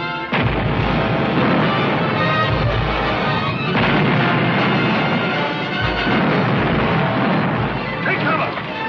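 Ship cannons firing from a fleet in a 1953 swashbuckling adventure film set in a bay, a heavy barrage of loud booms and crashes running continuously with battle noise and voices mixed in.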